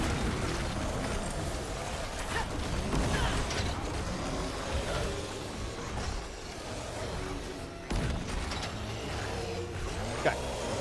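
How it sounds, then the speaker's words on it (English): A meat grinder machine in a video game churns on with dense mechanical clanking, creaking and ratcheting, steady and moderately loud, with occasional sharper knocks and no talk. "The meat grinder doth grind."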